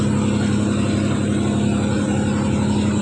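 A generator running at a nearby house under construction gives a loud, constant engine drone with a steady low hum that continues without break.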